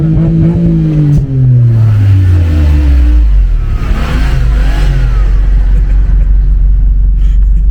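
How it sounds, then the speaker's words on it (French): A six-cylinder car engine revs loudly, rising and falling in pitch over a deep steady rumble, heard close and continuous with no talking. "C'est un beau bruit quand même hein, pour un 6 cylindres."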